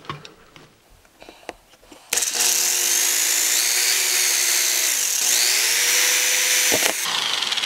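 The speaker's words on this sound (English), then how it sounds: "let me finish drilling the other ones" After quiet handling noises, a power drill bites into a broken piece on a shaft, whining loud and continuous for several seconds with a brief dip in pitch midway before stopping.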